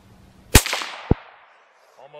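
Two sharp rifle cracks from a Marlin .17 HMR fired at a target 100 yards away, a loud first shot with a short decay, then a second about half a second later, with brief talk at the end.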